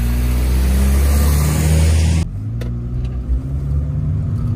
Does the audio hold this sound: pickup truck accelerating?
yes